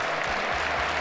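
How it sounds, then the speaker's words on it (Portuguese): A crowd applauding Donald Trump, a brief continuous patter of clapping from a large audience at a distance, with low murmurs underneath. "Todos se levantam para aplaudir e ele simplesmente aceita os aplausos"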